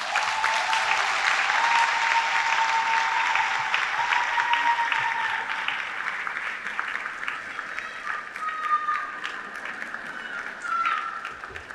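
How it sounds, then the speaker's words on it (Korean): A ceremony audience at Ewha Womans University's 140th anniversary applauds an award recipient, a professor of history, with sustained, even clapping that gradually thins, over soft background music. "큰 박수로 모시겠습니다."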